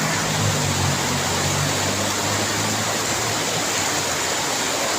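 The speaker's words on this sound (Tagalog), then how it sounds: "Tingnan nyo guys, ang lakas ng ulan dito sa amin." Heavy rain pours down in a dense, constant hiss and roar, loud and unbroken throughout.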